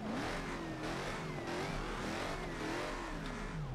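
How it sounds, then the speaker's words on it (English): A 1000 hp police car engine revs hard, its pitch climbing and falling in repeated surges under a dense, roaring mechanical noise, heard loud and steady throughout. "You just want to hear it rev, though."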